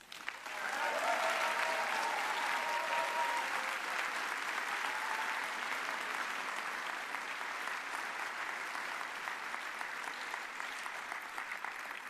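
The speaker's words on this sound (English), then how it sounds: "Please welcome her with a big applause." A conference hall audience at a Green Party of England and Wales plenary in Liverpool gives sustained, even applause to welcome a speaker, dense and moderately distant throughout.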